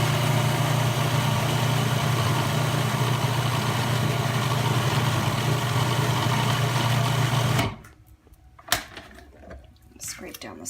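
A food processor whirs steadily as it blends raw vegan hummus, a loud continuous motor drone that stops abruptly near 7.7 seconds, followed by quieter clatter and handling sounds.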